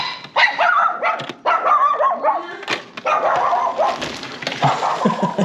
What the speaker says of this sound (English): Every time I was trying to talk, she was barking.